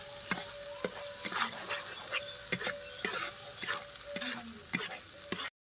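Spice paste for a rui fish kalia curry is stirred and fried in a pan. Sharp, repeated spatula scrapes and knocks come at an uneven pace over a continuous sizzle, close and clear, with no talking.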